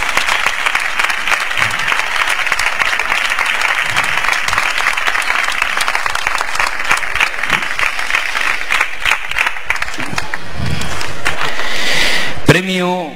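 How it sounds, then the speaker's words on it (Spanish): Sustained, dense applause from the audience of a flamenco cante por serranas contest in Prado del Rey rolls on for over ten seconds, with faint voices underneath; it swells slightly near the end before a brief sliding tone cuts in. "Ese fuerte aplauso."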